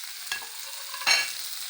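Tomatoes being stirred in a frying pan, two short scraping stirs over a steady close sizzle, the second louder.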